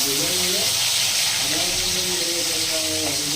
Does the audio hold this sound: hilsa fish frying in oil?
yes